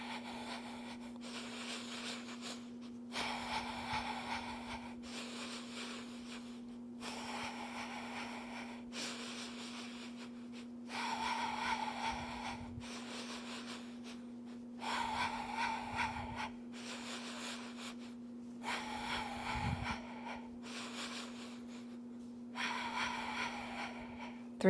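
Rhythmic, audible breathing during the Pilates hundred exercise on a mat, alternating long inhales and exhales in even cycles of several seconds each over a constant low electrical hum.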